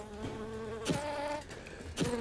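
Bees buzzing in a video game, a steady close insect drone with a few louder swells, heard alone without talk.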